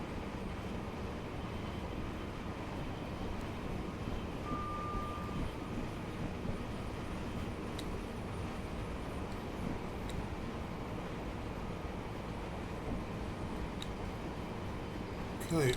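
A Class 700 Thameslink electric train in Train Simulator Classic runs between Brighton and Bedford, making a steady low rumble and rolling rail noise with faint occasional clicks.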